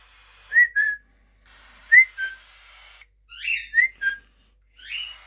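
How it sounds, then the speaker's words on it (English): A one-month-old male cockatiel whistles short, clear rising and falling phrases in bursts, with brief pauses between them, close and fairly loud. "So he does a bit of whistling."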